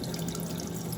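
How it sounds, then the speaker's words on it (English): Warm tap water runs steadily into a sink as a tilapia is rinsed and cleaned, a continuous close rushing wash with no voices. "you're just basically opening it under warm water and try and clean out any areas where you see blood"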